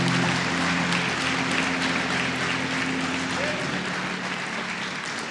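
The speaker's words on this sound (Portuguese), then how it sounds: "Você pode aplaudir ao Senhor se você acredita nisso?" A church congregation applauds throughout a congress service, a dense, steady wash of clapping from a large crowd that fades slightly toward the end.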